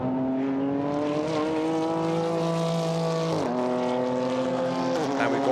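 GT4 race cars rush through the chicane at Paul Ricard, their engines holding a strong harmonic whine, then dropping sharply as they downshift twice, loud and continuous under broadcast commentary.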